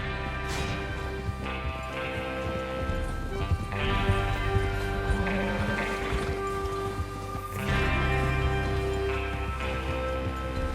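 Horses galloping in the video game Red Dead Redemption 2, a steady drumming rush of hooves, with some rattling and a whoosh of movement; loud and continuous, a voice briefly underneath.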